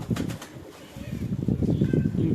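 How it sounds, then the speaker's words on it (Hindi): Chuhe kabutar pigeons, a rare breed including a large female, give low, soft cooing murmurs that run through the clip, with some light rustling alongside. "ये वाकई चूहे कबूतर है।"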